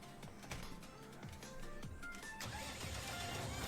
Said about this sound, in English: Right, let's get the loader tractor out